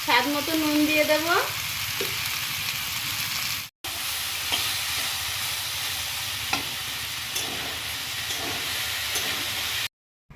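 Potatoes fry in a pan with turmeric, a steady loud sizzle lasting throughout with occasional stirring scrapes, broken by a brief cut near the end and no talking.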